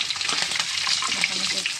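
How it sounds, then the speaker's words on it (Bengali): Hilsa fish pieces frying in hot oil, a steady broadband sizzle with crackling spatters running close and continuous throughout. "তেল গরম হয়ে গেছে, এখন আমি মাছ দেব। তো মাছ ভাজা চাপিয়ে দিচ্ছি।"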